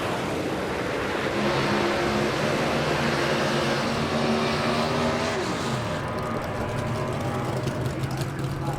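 Drag racing car at a drag strip, shutting off after a 150 mph pass, a loud roaring engine whose pitch sweeps down, heard under a commentator's voice.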